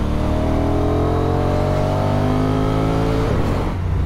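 A 2022 Honda NT1100 V-twin motorcycle engine revs up steadily under acceleration, its pitch climbing smoothly for several seconds before easing off, loud and close with no voices.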